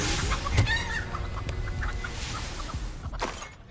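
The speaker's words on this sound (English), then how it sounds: "He turned it into a chicken." Chicken clucking in the video game Hogwarts Legacy after a character is transformed into a chicken, a busy fowl sound that runs steadily through the stretch amid game background noise.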